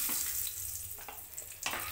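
Almonds roasting in a pan for homemade murmura namkeen give off a steady sizzle and a soft frying hiss, with a few brief stirring scrapes near the start, in the middle and toward the end.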